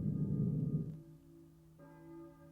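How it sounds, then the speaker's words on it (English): Church bell tolling in the Silent Hill video game, a low resonant strike at the start with sustained humming partials, then a second fainter strike fading out, heard alone. "we head on out to the church because the church bell is ringing"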